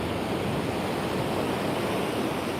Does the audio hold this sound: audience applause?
no